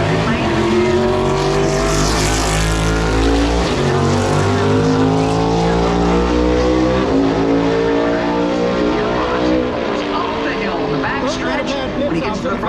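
NASCAR race car leaving pit lane during All-Star qualifying at North Wilkesboro Speedway, its engine roaring loud and continuous with rising and falling revs, joined by other engine noise, while a commentator talks over it.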